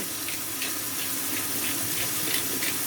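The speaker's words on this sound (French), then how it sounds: "Il y a du monde qui ont entendu l'eau là." Steady stream of running tap water, a constant broadband hiss with faint intermittent clatter, moderately close and continuous throughout.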